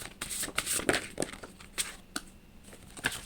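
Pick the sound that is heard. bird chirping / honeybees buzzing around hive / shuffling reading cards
shuffling reading cards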